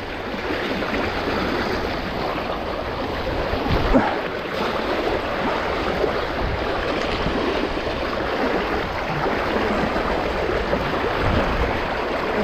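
Strong river current rushing around a fishing spot, a dense, steady wash of churning water that stays loud and even throughout with no voices.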